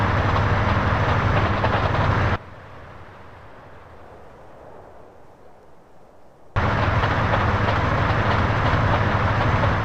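A train rolls along its rails in the video game GTA San Andreas, a loud, dense, continuous rumble that abruptly drops to a muffled hush for several seconds before cutting back in at full strength.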